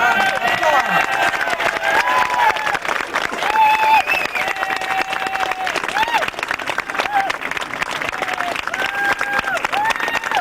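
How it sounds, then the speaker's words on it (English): Sustained crowd applause and cheering at a protest rally outdoors, loud and continuous for the whole stretch, with voices calling out over the clapping. "Let's give him a resounding applause."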